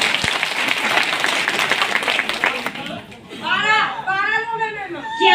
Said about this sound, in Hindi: एक बार तालियां हो जाए मैडम के लिए।